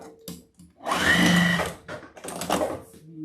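A sewing machine stitches around a piece of felt in short motor bursts, with a long run in the middle and brief pauses between stretches, close and clear.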